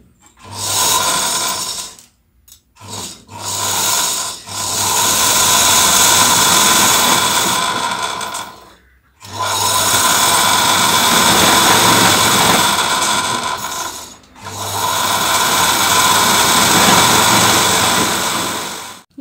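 A sewing machine runs in long steady whirring stretches while winding thread onto a bobbin without a bobbin winder, loud and close, stopping briefly between runs.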